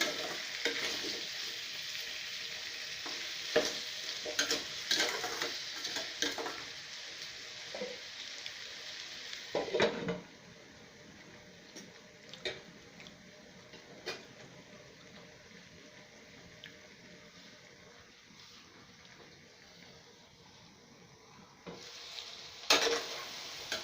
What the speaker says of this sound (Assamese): আকৌ লৰাই দিছোঁ অলপ, যাতে তলটো লাগি নধৰে।